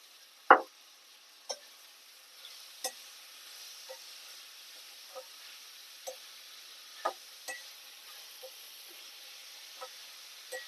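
Broad beans tumble into a pan of softened onion and garlic paste, followed by a quiet sizzle with soft clicks and taps of a spoon stirring at a slow, irregular pace, close up and with no talking.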